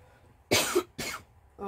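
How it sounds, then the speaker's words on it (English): Two harsh, close coughs in quick succession, followed by the start of a voice. "hate all this coughing"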